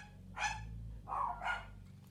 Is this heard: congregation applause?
no